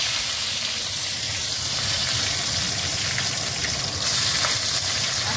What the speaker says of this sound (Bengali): এবার এই তেলে বন্ধুরা দিয়ে দেবো কাঁচা লঙ্কা, রসুন।